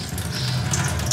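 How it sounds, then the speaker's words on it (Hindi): Tap water runs steadily over food being washed in a kitchen, a close, continuous rushing splash. "तो अभी इसको धोते हैं"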